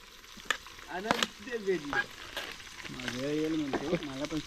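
Spices and onion fry and sizzle in a pan at an outdoor village party cookout, a soft steady hiss with occasional stirring scrapes, heard under people talking nearby.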